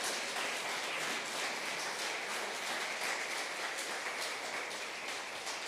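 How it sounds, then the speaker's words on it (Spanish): Applause from a small church congregation giving praise during a service, a continuous wash of many hands clapping, even and sustained for several seconds at moderate loudness, with no voices over it. "dale un aplauso al Señor."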